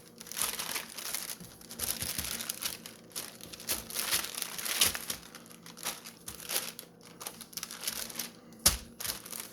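Parchment paper crinkles and rustles while bread dough for a four-ingredient no-knead Italian loaf is handled on it, a steady run of close, dry crackling with sharper crunches throughout.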